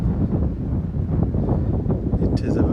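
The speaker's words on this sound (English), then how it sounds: "It is a very, very windy day." Strong wind buffets the microphone on a very windy day at an allotment greenhouse, a steady low roar that continues throughout, with a voice faintly under it.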